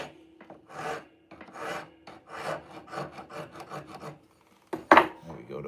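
A hand file rasps back and forth across a wooden tobacco pipe in a series of steady strokes, close and moderately loud, ending with a sharper scrape near the end.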